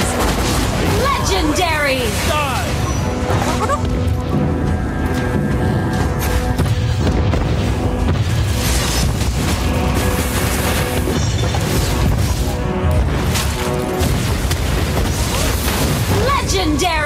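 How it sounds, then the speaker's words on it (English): Loud, dense crashes and booms fill a Mobile Legends fight as a turret is destroyed, mixed with game announcer lines, voices and constant effects. "Your team destroyed a turret!"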